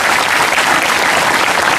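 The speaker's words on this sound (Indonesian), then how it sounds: "Tepuk tangan untuk Indonesia." A large audience at a Kenduri Cinta gathering applauds, a dense, loud and steady wash of clapping that runs the whole time with no talk over it.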